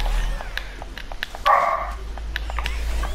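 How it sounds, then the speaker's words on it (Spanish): A dog barks repeatedly in short sharp yaps, fairly close and loud over a low steady hum, with one longer whining yelp in the middle. "Dile a tu perro que se calle."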